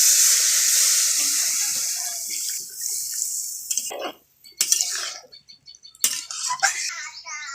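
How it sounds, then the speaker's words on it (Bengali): Water poured into a pot of braised chicken and potatoes being cooked, a steady splashing pour that breaks into bursts with utensil clatter toward the end, close by with no talk. "আমি এবারে জল দিয়ে দিচ্ছি।"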